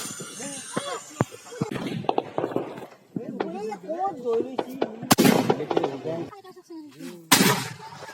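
Diwali firecrackers burst outdoors, with two sharp loud bangs and a few smaller cracks standing out amid people talking and shouting close by.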